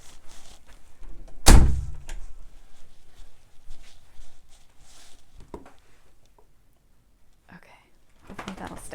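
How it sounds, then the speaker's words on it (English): A door is pushed shut with a single solid thunk, followed by faint clicks as it is locked. Soft whispered and spoken voices come before and after. "I'm locking the door."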